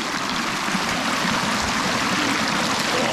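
Creek water flowing while old tile pieces are rinsed: a continuous, fairly loud broadband rush and babble of moving water, steady throughout with no voices.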